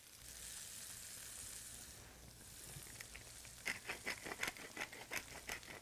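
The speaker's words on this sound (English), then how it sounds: "After cutting up an onion and green pepper, we saute them in a splash of olive oil" Onion and green pepper sauté in a splash of olive oil with a steady soft sizzle, then a run of crisp, rhythmic scraping stirs in the second half, close and fairly quiet.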